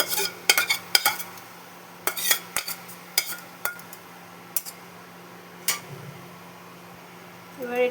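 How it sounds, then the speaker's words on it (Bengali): Paneer and vegetables for kadhai paneer stirred into an onion, ginger and garlic masala in a kadai, a spoon knocking and scraping the pan in scattered separate strokes over a low background hum. "এবার এটাকে হালকা হাতে ভালো মতন মশলার সাথে পনিরগুলো, সব সবজিগুলো মিলিয়ে দিতে হবে"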